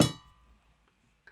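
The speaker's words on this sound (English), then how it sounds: "it's really a hubcap of a car that you hit with sticks." Car hubcap used as a Trinidad iron, struck with sticks: one sharp metallic clang ringing briefly then decaying, followed by a faint second tap.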